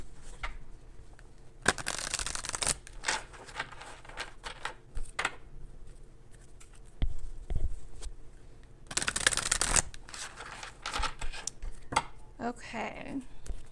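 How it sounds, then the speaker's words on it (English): Tarot cards are shuffled and drawn up close, with bursts of riffling and flicking card sounds separated by quieter handling and soft taps. "let's go ahead and draw some more cards here"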